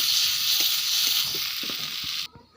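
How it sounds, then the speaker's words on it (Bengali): Chhena, the fresh cheese curds, fry with salt, sugar, chilli and turmeric in a pan, giving a steady broadband sizzle with soft stirring taps before it cuts off abruptly near the end. "ছানাগুলো দিয়ে দিলাম, ভালো করে মশলা ভেজে নেবো।"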